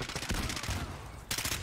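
Gunfire in Call of Duty: Modern Warfare, a loud dense burst of rapid shots with a brief lull before another sharp volley near the end.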